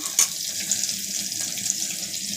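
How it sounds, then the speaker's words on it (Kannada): Mustard seeds spluttering and crackling in hot oil, a steady bright sizzle with a few sharp pops, close and continuous with no talk. "ಇವಾಗ ಸ್ವಲ್ಪ ಸಾಸಿವೆ ಹಾಕಿ, ಸಾಸಿವೆ ಸೀಳ್ತಾ ಇದೆ"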